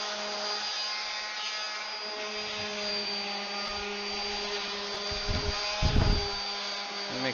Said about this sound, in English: You do that just by keeping the sander shallow.